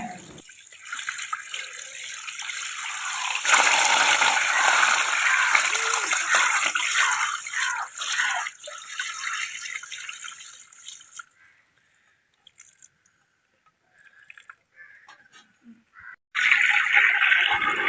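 Water splashes and sloshes in a vessel of arrowroot starch for several seconds, fades to near silence, then returns with a burst of running, pouring water.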